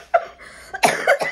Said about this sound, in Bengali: এক্সাইটমেন্টে না আমার হচ্ছে কাশি বেরোয় যায়